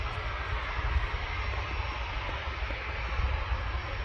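Aircraft engine roaring steadily at Manchester Airport, a loud continuous low rumble of a passenger jet nearby on a hot day, no voices over it.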